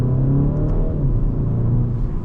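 A 2026 BMW 228i Gran Coupe with front-wheel drive pulls away and accelerates, heard from inside the cabin as a close, steady engine drone and low rumble that rises slightly in pitch. There is no talking.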